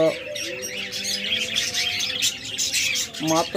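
A master pair of lovebirds kept for sale chirps in short bright bursts, close and lively, with a harsher repeated call at the start and again near the end.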